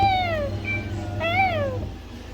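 A cat meows several times in short rising and falling calls, fairly close and clear over a low steady background hum, with no talking.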